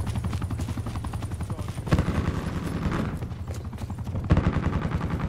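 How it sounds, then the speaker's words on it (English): Gunfire bursts and an attack helicopter in the video game Black Ops 4 on a night firing range map, with loud sustained rapid shooting and rotor noise and sharp louder reports near two and four seconds. "That attack helicopter."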